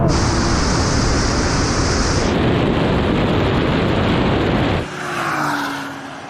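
Honda NSX engine roaring hard under full acceleration in a drag race, a loud, dense broadband wail held steadily for several seconds before it drops away abruptly to a quieter, fading tone near the end.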